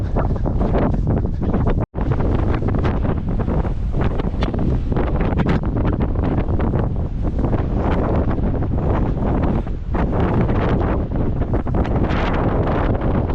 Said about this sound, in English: I wasn't going to come out and do this in a weather warning for wind again